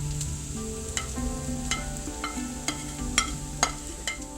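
Shrimp and drained noodles tossed into a hot pan of pad thai, a steady sizzle under a low hum with scattered sharp clicks and scrapes of stirring.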